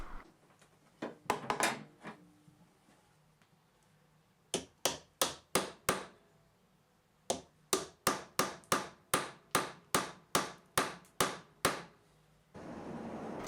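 Glued 12mm wooden dowels, 80mm long, are tapped into their holes with a run of sharp, evenly spaced knocks that come in bursts, close and fairly loud, with brief pauses between groups.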